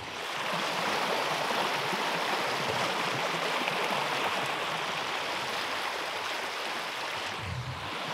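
A wide forest stream beside the Neris river flows steadily nearby, a constant rushing, bubbling wash of water with no voices.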